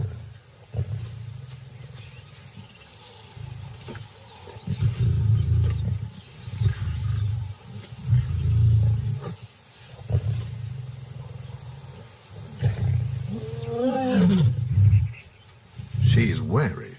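Lions roar out in the wild, where a lioness faces an intruding male, giving deep, rumbling bursts that swell and fade repeatedly under a narrator's voice.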